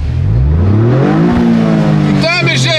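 A car engine revving with a buzzy, lawnmower-like drone among supercars at a Dream Cars Day gathering, rising in pitch over a few seconds, loud and close, with voices talking over it.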